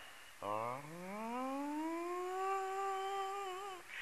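A man imitates the siren of an esparto grass factory with his voice, a single rising wail that climbs and then holds a long steady pitch for about three seconds before fading, heard close and fairly quiet.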